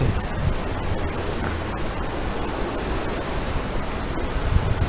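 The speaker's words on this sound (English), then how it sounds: "Getting a nice bit of spray off the water." Spray flies off a wild river in Hoa Binh, its rushing water forming a steady, full-bodied roar close by, unbroken and even throughout.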